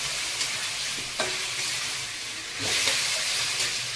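Prawns fry in hot oil in a pan for a coconut-milk malai curry, giving a continuous close hissing sizzle with a few soft scraping stir sounds.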